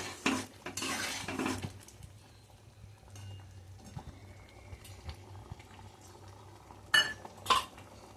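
Chana dal (Bengal gram) bubbles in a pot while a metal spoon stirs it. Scraping clinks come early and again near the end over a faint simmer, with no voices.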